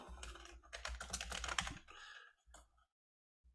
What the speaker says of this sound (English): you're going to hear my typing a little bit